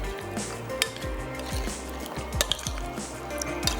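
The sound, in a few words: mixing red mutton masala in pot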